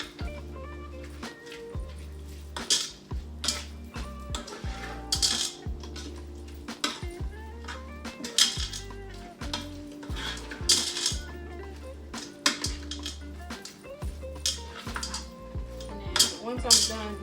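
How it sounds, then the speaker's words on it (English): A spoon stirs salsa, taco seasoning, lime juice and cilantro in a slow cooker, with repeated close clinks and scrapes against the crock in an uneven rhythm over a quiet background. "So I'm gonna give this a mix just to kind of mix everything together."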